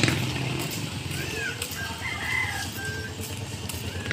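Chickens and roosters at a poultry market in Malolos, with several crowing calls rising over a busy, steady din of clucking birds and crowd noise, fairly loud and continuous.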